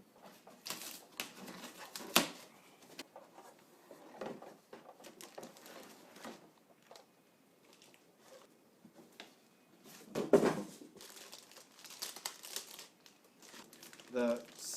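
Glued cardboard flaps of a Mattel Back to the Future hoverboard prop replica toy box being torn open, giving crinkly ripping and rustling bursts scattered across the stretch, with louder tears near the end, close and fairly quiet.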